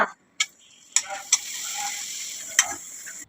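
Hot oil sizzles in a steady hiss as pappadams fry, punctuated by a few sharp clicks and crackles, close and moderately loud, with no voices.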